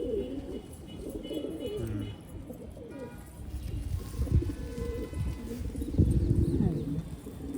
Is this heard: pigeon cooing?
yes